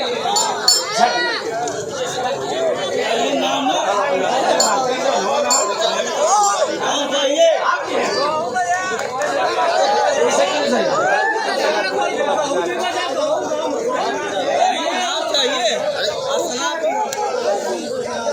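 A dense crowd presses forward for selfies at a live stage show, with a constant loud chatter of many overlapping voices and occasional clinks.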